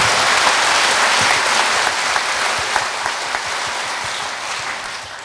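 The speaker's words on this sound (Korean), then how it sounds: "박수 한번 치시기 바랍니다." A large audience applauds steadily at a provincial governor's inauguration address in South Korea, a dense sustained wash of many hands clapping that fades slightly toward the end.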